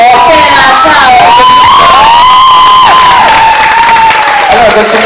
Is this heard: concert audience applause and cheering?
yes